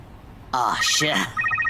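A phone rings briefly with an electronic tone that enters abruptly after a short quiet moment, close by, as a voice speaks over it.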